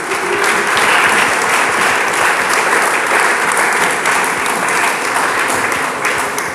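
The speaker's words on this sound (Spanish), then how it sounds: "Dele palmas al Señor, hombre." A church congregation claps in praise during a sermon, with dense, sustained applause filling the room, loud and continuous throughout without pause.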